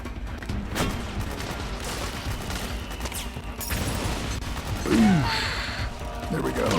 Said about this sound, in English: Since he already spotted me, we might as well use the mortar.